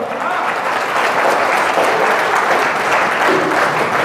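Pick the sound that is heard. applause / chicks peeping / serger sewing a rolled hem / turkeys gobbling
applause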